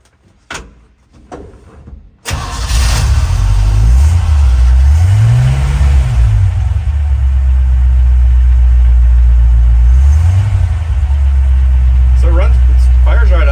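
A 1950 Chevy engine cranks briefly after a few faint knocks, then catches and settles into a loud, steady idle with a couple of small revs, running continuously to the end.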